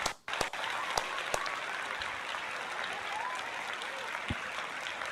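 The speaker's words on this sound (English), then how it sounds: "That deserves a round of applause." Recorded applause effect on a baseball play-by-play livestream: a steady wash of many hands clapping, loud and continuous, with a few sharp claps standing out near the start.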